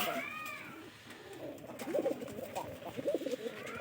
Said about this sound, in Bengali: কবুতর কিন্তু জোর নিচ্ছে এবং কি ভালো করে ডাকতেও আছে